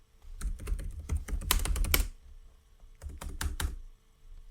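Typing on a computer keyboard, rapid close clusters of crisp key clicks in two bursts separated by a brief pause, no voices.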